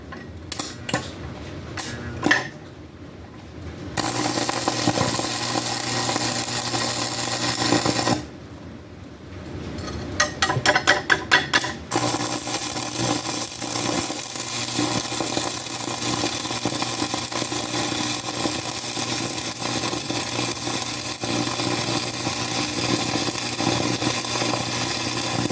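A Campbell Hausfeld flux-core welder cutting through galvanized metal, a steady crackling buzz that runs nearly nonstop, with brief pauses and a few sharp pops between arcs.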